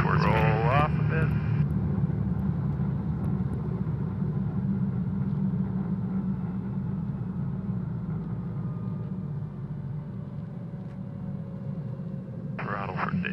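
Guimbal Cabri G2 helicopter engine with throttle pulled to idle, a steady low rumble heard from inside the cabin, with crew voices over the intercom at the start and end.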